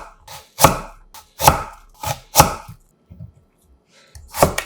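A knife cuts peeled, halved kohlrabi into thick 0.4 cm slices on a cutting board: five crisp, loud chops in an uneven rhythm, each with a woody thud and short gaps of silence between.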